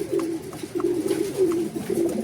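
A racing pigeon coos in a low, soft, rolling rhythm, several throaty calls close by with faint background noise.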